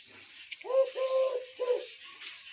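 Several soft, low coos from a dove or pigeon in a cold-weather bird enclosure, three drawn-out phrases in quick succession followed by a fainter one, heard alone against a quiet background.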